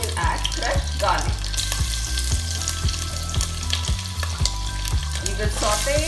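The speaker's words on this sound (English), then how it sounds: "We will saute it until and unless the raw flavor of ginger and garlic disappears." Crushed ginger and garlic sauté in a pot, giving a loud, steady sizzle with repeated clanks of a spoon stirring against the metal throughout.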